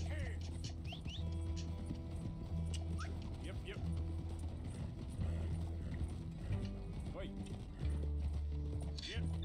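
Horse hooves clip-clop steadily in the Red Dead Redemption 2 video game, mixed with dog whimpers and yips, while people talk over the game sounds.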